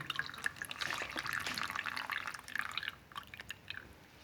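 Water trickles and drips through a kidney model in a classroom science experiment on the excretory system. The patter is faint, close and continuous, then thins toward the end.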